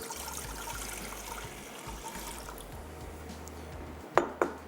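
Water is poured into a pan to make sugar syrup for an apple murabba. A soft, steady trickle runs through the whole stretch and ends with two short clinks near the end.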